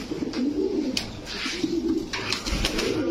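Several pigeons coo in low, rolling murmurs that overlap continuously, with faint rustling and flutter of wings nearby.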